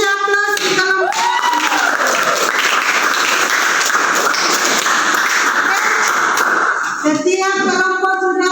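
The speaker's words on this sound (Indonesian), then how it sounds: "Oke, kita kasih aplaus di kelompok." Classroom students applaud a group for their presentation, a dense sustained burst of clapping lasting several seconds, with voices and laughter around its start and end.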